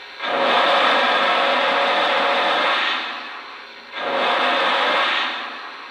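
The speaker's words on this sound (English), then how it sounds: "Here's the cylinder steam sound." Two long hissing bursts of simulated cylinder steam from a Lionel O gauge model C&O Greenbrier steam locomotive, each lasting a few seconds, loud and close with a short pause between them.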